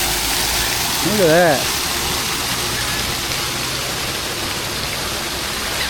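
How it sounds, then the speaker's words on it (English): A waterfall feature at a hotel swimming pool in Galveston, Texas pours in a steady, loud, continuous rush of splashing water, with a person speaking briefly over it near the start. "Got a nice waterfall area."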